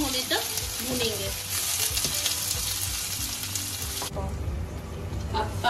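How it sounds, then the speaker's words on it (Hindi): Onion, green chilli and curry leaves fry in a pan with a steady, close sizzle, a few scrapes of stirring breaking through, and no talking over it. "डालकर इसको हल्का ब्राउन होने तक भूनेंगे"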